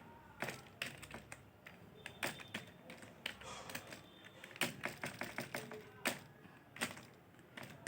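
Keys on a computer keyboard clack in irregular bursts as code is typed, close and fairly quiet, with scattered single taps and short rapid runs and no talking.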